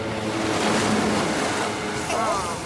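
A cartoon boat speeds across the water, a continuous rushing splash and wash with an engine-like drone, loud and close throughout with no pauses.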